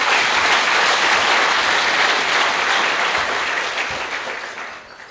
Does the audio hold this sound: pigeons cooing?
no